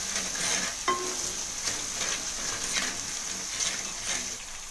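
Masala for a Tamil fish curry stirred in a pan, a low steady sizzle with soft repeated scraping strokes and an occasional metallic tap, fairly quiet and alone.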